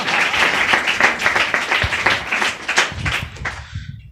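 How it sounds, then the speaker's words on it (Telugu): A congregation at a Sunday church service bursts into loud, close applause, dense overlapping clapping that holds steady for several seconds and then tapers off at the end. "చప్పట్లు కొడతారా?"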